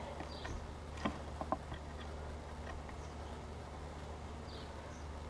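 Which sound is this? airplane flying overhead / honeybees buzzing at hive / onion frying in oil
honeybees buzzing at hive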